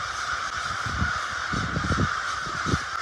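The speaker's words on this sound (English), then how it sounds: "there was a ton of crows, like hundreds" Many crows caw repeatedly from a large flock overhead, a dense chorus of overlapping harsh calls that swells and fades in bursts against steady background noise.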